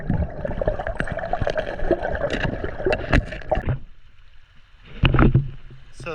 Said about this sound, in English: you can hear the water flowing a little bit more.